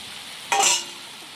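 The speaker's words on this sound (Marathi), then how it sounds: "हळद हळद मीठ टाकून चांगलं परतून घेतूया" Curry being sautéed with salt and turmeric in a pan gives one short burst of stirring sizzle, about a quarter second long, that rises sharply and fades back to a quiet background.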